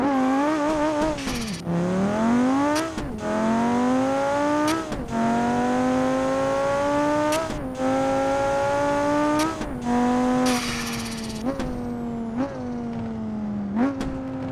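Simulated car engine in BeamNG.drive revving hard and repeatedly, each climb ending in an abrupt drop before rising again across a steady, loud rhythm of throttle bursts with no talking.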